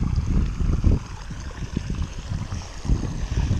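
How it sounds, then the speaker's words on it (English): Sycamore Creek runs outdoors with a steady, low rushing flow that stays close and fairly loud throughout, with no voices. "I always love the sound of running water."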